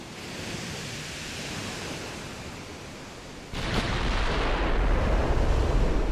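Battleship high-explosive shells striking in the naval game Ultimate Admiral Dreadnoughts: a steady roar of wash and rumble, then a sudden heavier impact that swells into a louder, sustained blast of noise.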